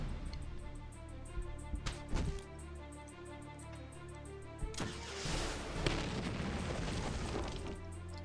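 Rocket pod barrage from the video game Battle Nations: a string of booming explosions with sharp bursts, the heaviest impacts clustered near the start and middle, over a steady game backdrop.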